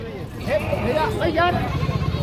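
Goats bleat repeatedly at a busy Punjab livestock market, several close, wavering calls overlapping a steady murmur of crowd chatter and nearby talk.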